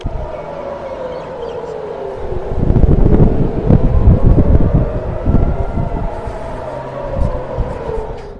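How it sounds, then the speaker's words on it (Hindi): Air raid sirens wail, rising and falling in the distance across Tel Aviv over steady wind-like rumble, swelling louder in the middle before easing back. "टेल अवीव में हर तरफ से सायरन्स बज रही हैं"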